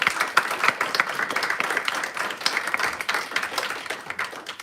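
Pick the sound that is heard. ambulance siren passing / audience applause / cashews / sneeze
audience applause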